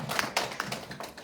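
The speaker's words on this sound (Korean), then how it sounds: "박수 한번 부탁드리겠습니다" Brief burst of audience applause at a parents' orientation for an English-language summer camp in Idaho, a patter of hand claps from a modest indoor group, moderately faint and over within about a second.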